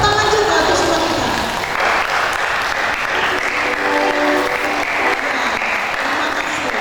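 A Sunday school Easter gathering at church breaks into sustained, loud applause from many hands, a dense steady clatter filling the whole stretch with voices faintly mixed in.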